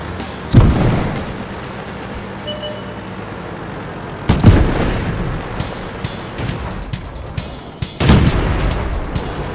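A Grille self-propelled artillery gun firing in World of Tanks: three heavy booming shots at a few-second intervals, each with a rumbling tail, over quieter battle ambience.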